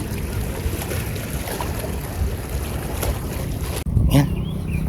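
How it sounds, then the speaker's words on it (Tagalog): A low, continuous motor drone with wind rumble from boat engines running nearby at sea, steady throughout with a brief shift near the end. "yung andar ng makina ng mga bangka lang yung maririnig doon"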